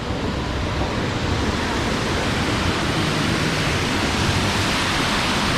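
Pumped river water pours into a mill race at a city mill, a steady, dense broadband rush that stays loud and unbroken throughout with no voices.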